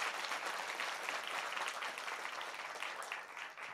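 A church congregation claps during a Sunday morning service, a steady, fairly faint wash of applause from many hands that tapers slightly toward the end.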